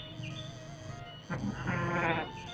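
Sheep bleat in a rural livestock setting, a couple of wavering cries rising over a steady background hum, fairly close and clear, with no talking.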